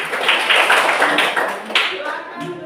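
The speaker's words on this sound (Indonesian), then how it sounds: "Ya, tepuk tangan." Students clapping in a classroom, a burst of close, dense applause that thins out and fades toward the end, with a voice speaking near the end.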